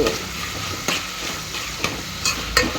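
Cauliflower frying in oil in a pan for gobi palya, a loud, continuous sizzle close by with periodic scraping clicks as it is stirred, no talking.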